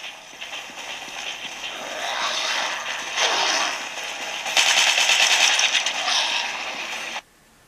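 Rapid gunfire from the Dead Trigger video game, played on Android with an Xbox 360 controller, rattles on continuously for several seconds, dense and fairly loud, then cuts off abruptly.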